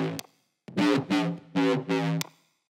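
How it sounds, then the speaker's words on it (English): A saw-wave bass patch in Serum with distortion and drive plays four sustained, buzzy, harmonically rich notes in a steady rhythm. The notes are loud and close, with brief gaps between them. "instead of a sine wave, we have a saw wave"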